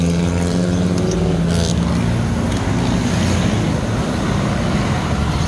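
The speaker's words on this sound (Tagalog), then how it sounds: "Ngayon, start natin yung motor." A Yamaha Nmax V2 motor scooter, just repaired after an ignition fault, starts up and settles into a steady low idle hum, close and continuous with a brief higher clatter early on.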